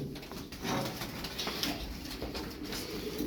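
Soft, continuous cooing of about twenty domestic pigeons, a low murmur of several birds, steady and fairly close, no talking.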